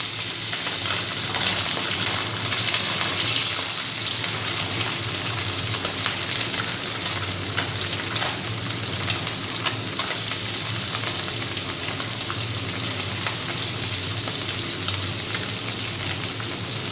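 Tangra fish fry in hot oil in a home kitchen, a loud continuous sizzle and crackle with occasional stirring, steady throughout and without talk.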